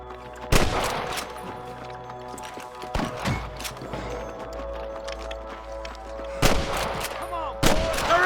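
Sniper rifle shots in Red Dead Redemption ring out as a few sharp, loud cracks spaced seconds apart over a constant low game ambience.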